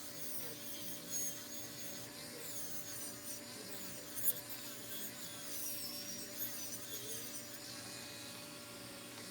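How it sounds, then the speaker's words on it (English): A steady high whine of a small 400 grit rotary sanding wheel grinding against wood, with faint scratchy variations and occasional light clicks. "400 grit sanding wheel."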